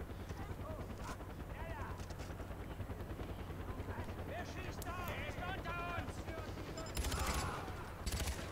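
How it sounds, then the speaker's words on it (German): A helicopter in the video game Far Cry 4 keeps up a continuous rotor drone under bursts of gunfire, with someone talking over the in-game action. "jetzt hat der Helikopter uns ein paar neue Feinde gebracht"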